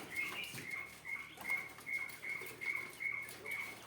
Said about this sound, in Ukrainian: Ох, шустрий який там кричить. Перепил.